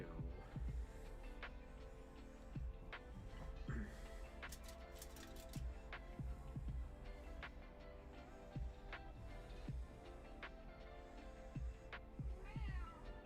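A cat meows repeatedly during a sculpting session, several short distinct calls over continuous background noise and scattered clicks, with a person speaking now and then.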